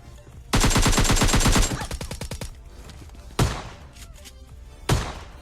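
In PUBG Lite gameplay, a loud burst of rapid automatic gunfire downs an enemy, followed by a slower trailing rattle of shots and two later single sharp reports.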